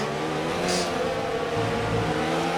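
A Formula 1 car's engine in F1 2019 drones at high revs on lap 1 of the Chinese GP, a steady loud whine with shifting pitch as it accelerates behind another Williams, no talk over it.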